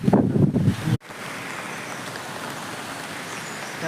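Heavy monsoon rain pouring over a cashew orchard, a broad continuous hiss of downpour that fills the clip after a brief rumble of handling noise at the start.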